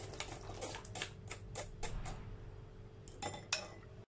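Cooked black beans tipped into a dish of dissolved sugar syrup for a microwave dessert, a quick run of close, sharp clinks and rattles against the dish, fairly quiet with no talking.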